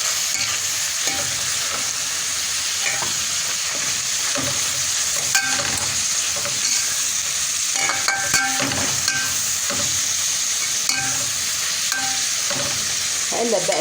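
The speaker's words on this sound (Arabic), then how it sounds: "هقلب بقى فيها لحد ما البصل تختفي." Grated onion and meat fry in oil and butter in a pan, a steady bright sizzle running throughout with repeated scraping stirs of a utensil against the pan; no talking.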